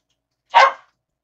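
One short, sharp dog bark, close and loud, standing alone in otherwise silent surroundings.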